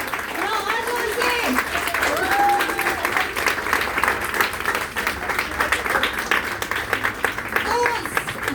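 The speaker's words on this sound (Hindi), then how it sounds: "सो जोरदार तालियां बजा दो यार।" Applause from an audience at an indoor makeup and winter skincare session, a dense crackle of clapping that runs steadily throughout while voices talk over it.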